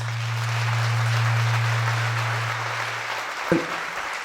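Applause from a concert audience: a steady, dense wash of clapping with a low electrical hum underneath, easing slightly toward the end, followed by a brief thump.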